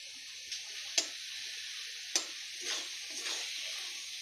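A spatula stirs melted tomatoes in a blackened kadai, giving a quiet, low sizzle punctuated by a few sharp taps and scrapes of metal against the pan.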